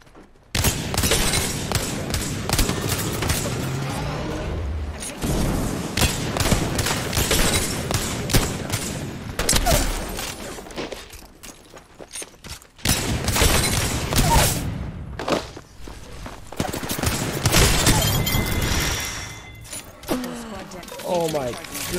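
Dense gunfire in a video game shootout crackles in long, loud bursts over most of the stretch, with brief breaks between them, as a player's voice talks over the action.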